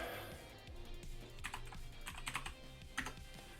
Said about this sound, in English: We're just typing that disable editor.